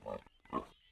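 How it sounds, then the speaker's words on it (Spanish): A pig oinks twice in short grunting bursts, close and clear, with a brief gap between them in a children's animal-sounds setting. "¡Cerdo!"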